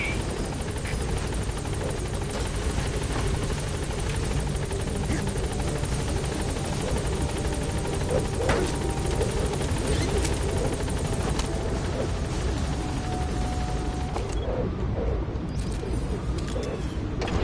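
The Pequod helicopter sets down at a landing zone in Metal Gear Solid V, its rotor chop and engine roar loud and continuous throughout, with a brief radio voice partway through.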